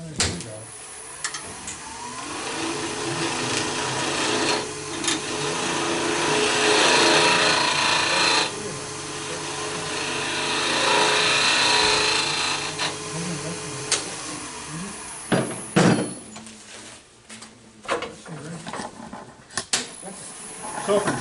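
A drill bores into a wooden Japanese-style cup turning on a lathe slowed to about 700 rpm, giving a sustained rasping grind that swells and eases, then breaks into scattered knocks and scrapes near the end.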